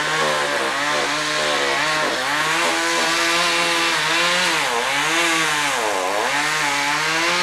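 A chainsaw cuts down trees on a hot late afternoon during debris cleanup in the Bahamas, its engine buzzing loud and close without a break, the pitch dropping and surging as the blade bites into wood.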